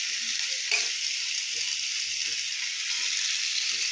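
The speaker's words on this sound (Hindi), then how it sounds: "2 से 3 मिनट फ्राई करेंगे चावल को" Cleaned rice frying in hot ghee for saffron kheer, a continuous bright sizzle with soft intermittent stirring scrapes, fairly quiet and without talk.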